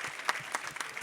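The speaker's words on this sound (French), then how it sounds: "J'ai quand même eu un applaudissement au Palais Royal" A theatre audience at a Q&A gives faint, sparse applause, with a handful of separate claps heard at a distance.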